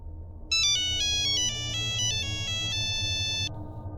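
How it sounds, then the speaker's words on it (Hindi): A phone ringtone plays a short, bright melodic tune of rapid electronic tones for about three seconds over a low background hum, close and clear. "तभी मेरे फ़ोन बजा।"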